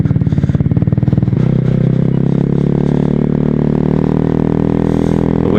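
A red 2011 Honda Zoomer scooter swapped to a GY6 150cc engine pulls away from the line: rapid pulsing idle gives way to a loud, rising buzzy engine drone, close and alone.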